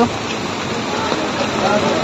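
A dense, steady roar of heavy rain pours down on a street in Sirajganj, with faint voices mixed under the hiss.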